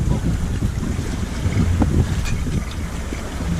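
Sailboat sailing close-hauled in about 10 knots of wind on a calm sea in Corsica, with constant loud wind rush and low hull and water wash, no voices.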